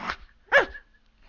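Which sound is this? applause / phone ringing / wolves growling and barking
wolves growling and barking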